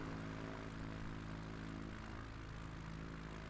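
A propeller airplane engine in a flight simulator video game drones steadily with a constant tonal hum, heard alone at a fairly low level.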